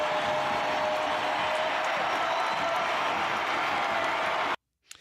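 A stadium crowd at a Major League Soccer match applauds and roars steadily as Hector Herrera returns, a dense continuous wall of clapping and cheering that stops suddenly.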